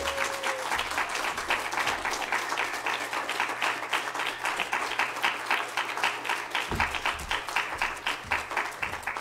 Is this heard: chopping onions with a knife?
no